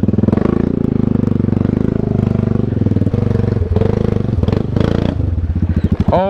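A brand-new four-wheeler ATV has its exhaust underwater while its wheels spin in deep water, giving a loud, steady, throbbing engine drone with clattering bursts and a rev near the end.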